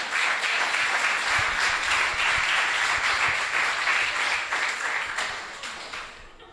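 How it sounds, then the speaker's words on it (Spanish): A church congregation claps steadily in a dense wash of applause that holds loud for several seconds, then thins and fades out at the end. "Dale un aplauso al Señor."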